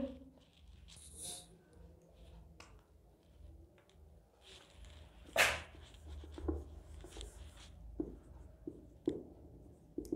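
Chalk or marker scratching on a board during a chemistry lecture on amino acids, a few short scraping strokes spread across quiet room noise with one louder knock midway.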